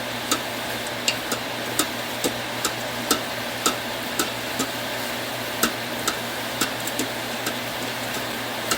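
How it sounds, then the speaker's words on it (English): Onions and ground turkey cook in an Instant Pot under steady stirring, a constant sizzling hiss punctuated by regular light clicks of the spoon roughly every half second. "I like to keep stirring it fairly often to keep things cooking evenly."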